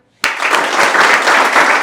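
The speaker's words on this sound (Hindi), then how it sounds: "तालियां" Sudden burst of audience applause in a marine academy session hall, dense steady clapping from a crowd starting abruptly and holding loud throughout.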